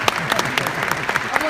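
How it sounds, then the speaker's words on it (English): Graduation ceremony audience applauding, a busy patter of many hands clapping close by, with a speaking voice running over it throughout. "Clap your hands."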